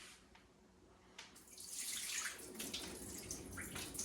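Soaking water pouring off a full pack of Thompson's beans as they are strained, a steady splashing stream building up after a quiet start and continuing close by.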